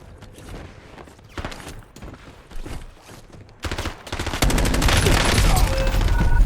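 Video game gunfire in Warzone: scattered shots and bursts that swell into a loud, dense barrage of rapid automatic fire and impacts over the last two seconds.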